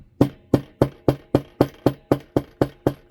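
Eleven sharp metallic taps in an even, quick rhythm, a small hammer striking a wire woven bangle bracelet close up.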